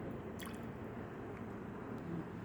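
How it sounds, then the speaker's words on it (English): Distilled water is poured into a glass beaker in a lab, a faint continuous liquid trickle and gurgle under a steady background hiss, with no one speaking. "So we have to pour the 10 ml distilled water"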